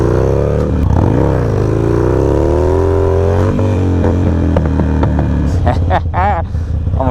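A Harley-Davidson Sportster motorcycle engine idles loudly and revs up and down nearby, its rumble rising and falling while someone talks over it.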